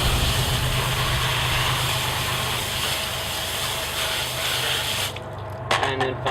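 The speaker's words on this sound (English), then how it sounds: "We'll give the base a quick spray down." Steady hiss of water from a hose spraying down the base of a Dolphin robotic pool cleaner close by for several seconds, then cutting off into a few splashes and drips.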